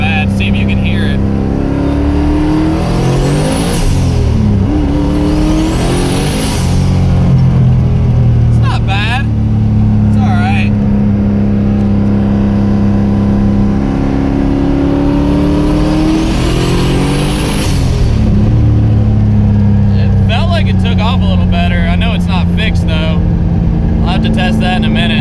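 A modified car exhaust growls while accelerating onto a highway, engine pitch climbing through several gear pulls with brief sharp rising whines, loud and close from inside the cabin, a voice speaking briefly between pulls.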